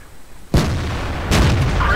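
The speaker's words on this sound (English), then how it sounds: "I shot his track." A tank's main gun fires in World of Tanks, a sudden loud boom that rolls into a rumbling tail, followed by a second heavy blast a moment later with no speech.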